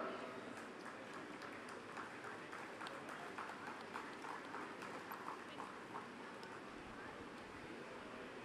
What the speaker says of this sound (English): Please give them a round of applause. Keep it going.